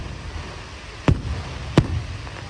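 Traditional fireworks for Chinese New Year: two sharp, booming cracks about two-thirds of a second apart, each bursting loud over a low background rumble.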